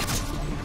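Dense burst of gunfire in the video game Modern Warfare 2, loud and continuous over the whole short moment, booming and thick with no gaps between shots.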